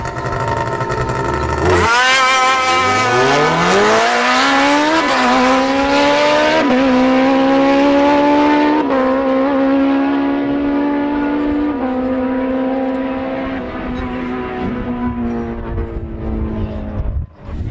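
Drag-racing snowmobile fitted with rollerblade-style runners on the front, its engine screaming loudly as it accelerates hard through several rising gear shifts, then fading as it pulls away.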